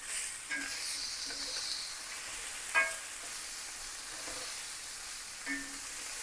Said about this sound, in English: you can see the chicken is getting nice and browned